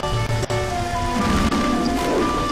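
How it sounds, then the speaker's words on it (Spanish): Steady dense rain noise from the video game The Legend of Zelda: Majora's Mask, with a low rumbling bed, continuous and loud, layered with faint sustained electronic tones. "Está lloviendo"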